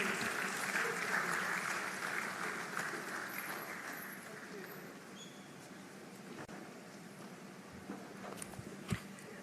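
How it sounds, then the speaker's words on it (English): Audience applause at the Africa Retail Congress 2023 for the moderator of the first panel discussion, a broad sustained clapping that gradually thins out over several seconds, with a few louder claps near the end. "Can we have a round of applause for Monica Emujeze, moderator of the first panel discussion?"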